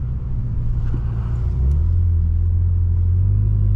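A Stage 2 800HP BMW M6 engine idles with a deep, loud rumble that swells into a heavier, sustained drone partway through, close and steady with no talk over it.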